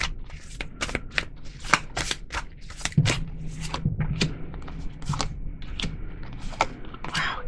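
Tarot cards being shuffled in a steady run of crisp riffling snaps and bursts, close and moderately loud, continuing alone without any talk.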